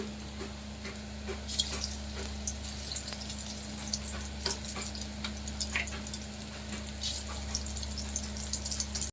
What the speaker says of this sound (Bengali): একটা ভাজা হয়েছে আর একটু ভাজছি